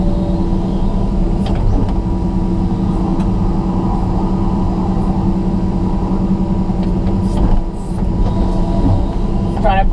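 A John Deere 200LC excavator with an Engcon tiltrotator and grading bucket spreads gravel on a new house lot, its loud diesel drone steady and close throughout, dipping briefly near the end.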